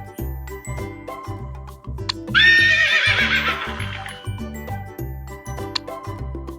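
A horse whinnies once for a toddlers' farm-animal quiz, a loud, drawn-out neigh lasting about two seconds over a steady, bouncy children's music backing.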